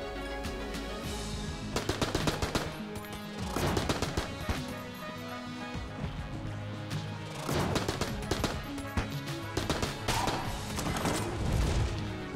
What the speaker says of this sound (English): I really like the AK-47.